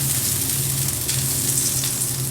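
Slices of bread fry in butter on a griddle with a steady, close sizzle, a dense crackling hiss that holds evenly throughout with no pauses.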